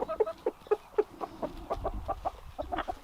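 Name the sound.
Silkie chickens clucking on a farm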